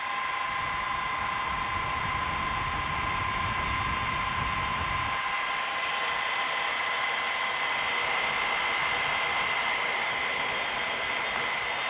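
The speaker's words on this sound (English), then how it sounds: "these fans are fairly loud" The cooling fans of a Sun Fire X2200 M2 server roar loudly and steadily with a constant whine, a low rumble dropping away partway through while the fan hiss continues alone.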